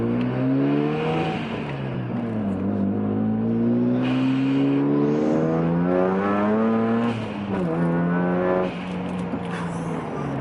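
1994 Mazda RX-7 accelerating hard, the engine rising in loud sustained sweeps with a couple of shifts, heard up close from inside the car and continuous throughout.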